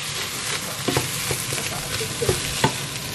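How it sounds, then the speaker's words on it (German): Lentils and tomato paste sizzle steadily in a hot pan, with soft scraping and clinking as they are stirred a few times. "Das brate ich kurz mit an."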